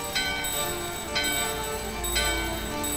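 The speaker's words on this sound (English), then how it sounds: "The bell in your hand and the doorbell are ringing." Bell rings in Final Fantasy IX: three bright metallic chimes spaced about a second apart over a sustained synthetic game tone, loud and clear with no talk.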